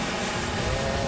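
A Mi-24D Hind helicopter's turbine engine roars loudly and steadily at close range during a test flight, a dense continuous whine and rumble with no breaks.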